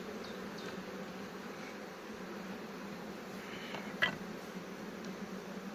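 Honey bees buzz around open hive frames while colonies are split at an apiary, a steady close swarm hum with one brief knock near the end.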